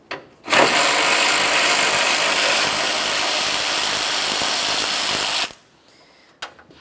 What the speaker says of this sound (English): Let's move along to removing the top AC condenser mounting bolts. We'll use a 10 millimeter for these.